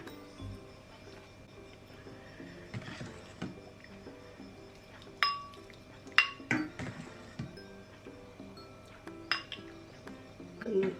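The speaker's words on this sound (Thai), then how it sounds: "มาจัดถ้วยเสิร์ฟเลยค่ะ ตักเสิร์ฟเลยค่ะ" Thick sweet corn pudding with coconut milk being spooned into small serving cups, a quiet series of scattered clinks and taps of a spoon against cups and a pot over a faint steady hum, with no speech.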